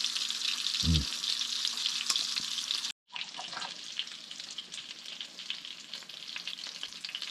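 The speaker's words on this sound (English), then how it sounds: "Oh, fried onions." Onions sizzle steadily in a hot pan, a bright continuous frying hiss with brief stirring scrapes and a momentary cut near the middle, no voices.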